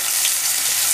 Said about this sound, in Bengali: ওই তেলেই আমি লম্বা লম্বা করে আলু কেটে রেখেছিলাম সেটা দিয়ে দিচ্ছি।